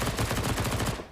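Rapid gunfire fills the whole moment as Counter-Strike players fire through a wall on the Nuke map during a competitive esports match. The shots are dense and evenly spaced, loud and close, with no voices over them.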